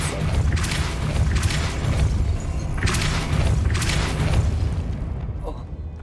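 The Depulso spell is cast in Hogwarts Legacy, producing several heavy booming bursts with rumbling, forceful releases spread across the stretch, while someone talks.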